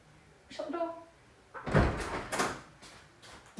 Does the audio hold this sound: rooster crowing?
no